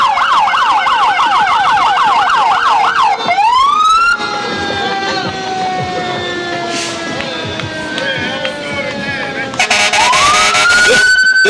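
Loud wailing emergency-style siren on a vehicle in a Fourth of July Independence Day parade in Hamilton, sweeping up and down, then switching to a steady tone and a yelping whoop, close and continuous throughout.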